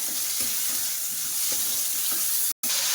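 Mango pieces, salted for an aamshol fish curry, fry in a pan with a steady close sizzle and soft irregular stirring clicks, briefly cut to silence near the end.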